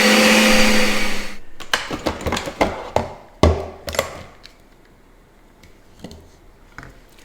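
A Ninja Creami machine spins frozen coffee ice cream, its loud steady whir running about a second before breaking into a series of sharp knocking clunks and uneven grinding bursts that fade to a quieter hum.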